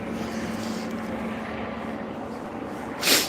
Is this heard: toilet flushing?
no